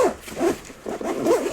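The zipper on a Sunnybag Iconic solar bag is pulled closed in several short, rasping strokes with brief pauses between them, close and clear.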